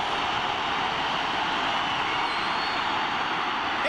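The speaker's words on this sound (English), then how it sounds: "Listen to the crowd roar." A stadium crowd roars steadily at a 1991 CFL football game, Toronto at B.C., a loud, dense, unbroken wash of cheering with no talk over it.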